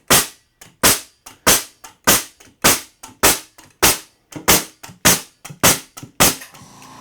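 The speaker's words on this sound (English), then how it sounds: "let's see how many nails it fired" A finish nail gun fed by a Rolair JC10 super quiet oil-less 2.5-gallon air compressor fires eleven sharp, close pops at an even, rapid rhythm, each shot loud with a short decay and no talking in between.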